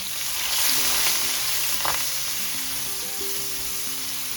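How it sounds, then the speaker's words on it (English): Onions and curry leaves frying in oil in a pan for dhal with kale, giving a steady, moderately quiet sizzle with one brief clink near the middle and no voices. "let that fry until we get a nice golden brown on the onions"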